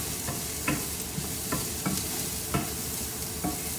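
Onion and ridge gourd stir-fried in a pan, a steady close sizzle broken by regular scraping strokes of the spatula roughly every half second, with no talking.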